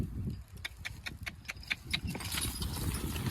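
Draft horses walking in harness while plowing a field, their hooves giving a steady, evenly spaced clip-clop close by over a low rumble of the plow and ground noise.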